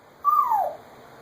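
A child imitates an owl's hoot with one drawn-out, falling call, close and clear, standing alone against a quiet room.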